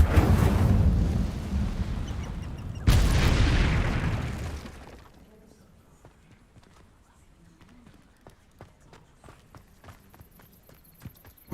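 An Incendio fire spell effect bursts out as a loud whooshing roar with a second flare-up, then fades into quiet crackling and scattered small pops.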